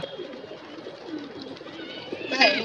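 A small flock of pet pigeons coos softly and repeatedly at close range over a low background hum, with a brief brighter call near the end.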